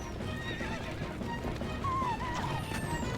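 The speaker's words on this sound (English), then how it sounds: "Dismount, Link." A horse whinnies in The Legend of Zelda: Twilight Princess HD. The neigh rises near the middle and stands over steady hoof clip-clop and game noise during a wagon escort on horseback.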